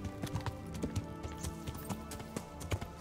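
Horse hooves clip-clop in a quick, steady rhythm as a mount is ridden in a video game, fairly faint, with no talk.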